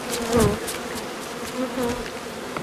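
Honeybees buzz close by, a steady droning hum with individual insects rising and fading as they fly past.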